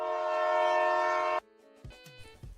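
A loud, sustained train horn blares with a rich chord for over a second and then cuts off abruptly, followed by quieter rail clatter and clanks in a fantastical multiversal train station.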